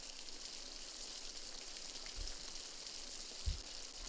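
Soft, steady rain hiss fills the background, with a couple of low dull thumps near the end.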